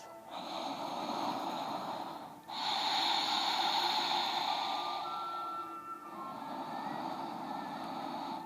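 Slow, deep breathing during a seated yoga pose with the chin tucked to the chest, two long steady breaths broken by short pauses, close and fairly loud with no talk.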